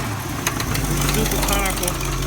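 Oldsmobile 455 V8 idling with a knocking noise from the top rear of the motor, a steady close rumble with faint rhythmic ticks, under someone talking.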